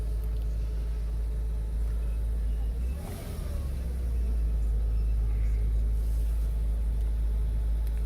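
A 2000 Porsche Boxster engine running, heard as a steady low rumbling idle with a brief dip and faint rise around the middle, fairly close and smooth.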